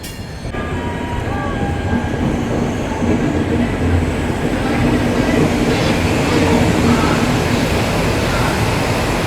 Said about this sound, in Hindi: एकदम शार्प कर्व और पीछे की साइड देखो तिरंगे के खूबसूरत नज़ारे के साथ हम लोग एंटर कर रहे हैं एसएमवीटी बेंगलुरु रेलवे स्टेशन पर